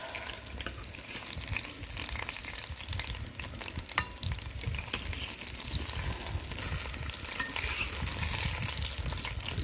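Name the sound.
stirring fried fish in simmering fish curry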